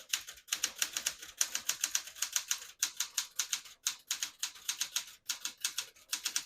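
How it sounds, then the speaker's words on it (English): Rapid typing on a 1969-1972 Smith-Corona Galaxie Deluxe vintage portable typewriter, a steady run of crisp, close keystrokes clacking alone with a few brief pauses between bursts. "I'll type a sentence on this next line."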